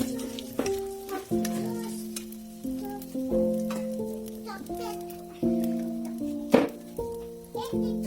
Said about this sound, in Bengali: তেলটা গরম হয়ে গেছে, ফোড়ন দিচ্ছি 2টো শুকনো লঙ্কা আর জিরে